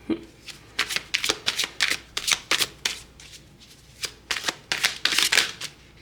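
Tarot cards are shuffled by hand in repeated rapid riffling bursts, crisp and close, with a brief pause midway before the shuffling resumes, no voices.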